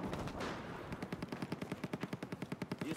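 Enemy machine gun fire in Battlefield 4: a rapid, steady burst of automatic shots, each report sharp and punchy, rattling without a break over a rumbling battlefield.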